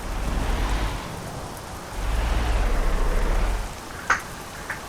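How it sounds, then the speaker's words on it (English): Steady rain patters on a truck in the Euro Truck Simulator 2 video game, a broad hiss under a low rumble that swells and eases, with a couple of sharp ticks near the end and no talk. "It's raining."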